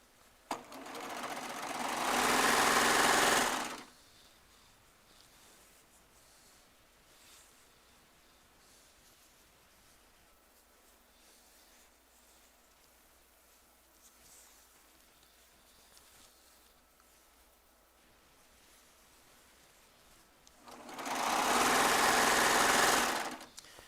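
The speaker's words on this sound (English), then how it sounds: "As you can see, when I'm serging those ends together, here's what I'm cutting off." Baby Lock Triumph serger stitching fabric ends together: two loud, steady bursts of high-speed whirring, one at the start and one at the end, with a quiet stretch between.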